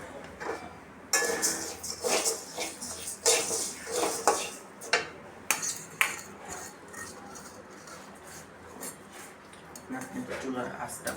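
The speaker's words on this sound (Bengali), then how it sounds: "মুগ ডালটা আমি ভেজে নিব।" Mung dal frying in a pan while a metal utensil stirs it, producing irregular clinks and scrapes against the metal, loud at first and then softer, with someone speaking over it.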